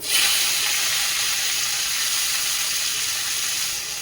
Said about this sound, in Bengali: এখন দিয়ে দেবো শাক আর সিম